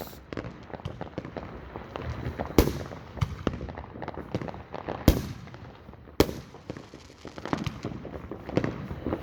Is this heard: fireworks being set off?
yes